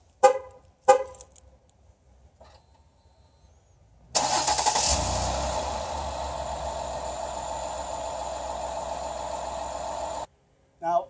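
Two short horn chirps and faint clicks, then a 2012 Ford Escape engine cranks and starts by remote start, idling steadily nearby for several seconds before cutting off abruptly.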